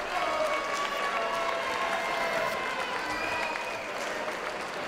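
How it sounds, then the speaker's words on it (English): A crowd at a mixed martial arts event applauds and cheers after a two-round fight, a dense, continuous wash of clapping that holds steady for several seconds. "would you please make some noise, Chris Gunn and Arthur Gansivicas"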